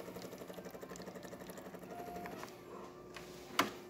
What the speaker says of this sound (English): Hot water, as you can see, is a nice steady stream coming out through the wand.